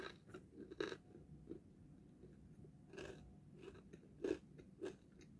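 Plain crunchy bread eaten at breakfast, chewed up close in a quiet room: soft irregular crunches and bites, a few louder ones, no talk.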